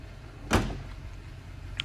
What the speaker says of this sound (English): We got a power tailgate as well.